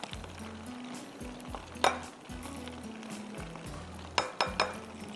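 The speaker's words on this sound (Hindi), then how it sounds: "चिकन फ्राई हो जाएगी, फिर हम इसी तेल में पालक को फ्राई करेंगे।" Cornflour-coated chicken fries in oil in a pan, a soft bubbling sizzle punctuated by a few sharp metallic clinks of a utensil against the pan, close by and without speech.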